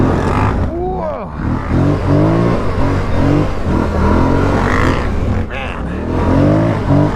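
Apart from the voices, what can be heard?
Renegade and Scrambler 1000 ATV engines revving on trail ride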